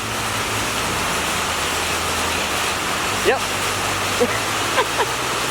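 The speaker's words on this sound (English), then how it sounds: "I also got the rain coming" Steady rain coming down outdoors beside a Dodge truck, a constant broadband hiss throughout with a low hum underneath, a few brief chirps on top and a short spoken word near the end.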